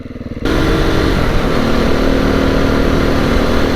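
A 2022 Beta 430 RR-S dirt bike engine pops at low revs, then jumps into a loud, sustained rev that holds strong and close throughout.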